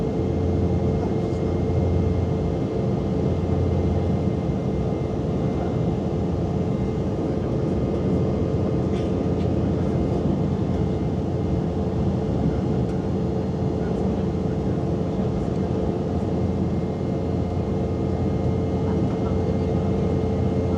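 Air Dolomiti airliner cabin during a wide turn after takeoff from Graz, a loud steady engine and airflow roar that fills the cabin evenly without letup, with faint occasional cabin sounds.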